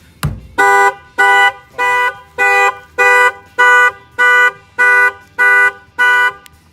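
A 2017 Mercedes C43 factory alarm, set off by a shock sensor when the rim is struck, opens with a sharp knock and then blares a loud, close horn in ten evenly spaced bursts.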